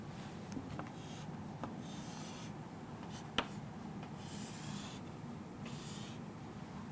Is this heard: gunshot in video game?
no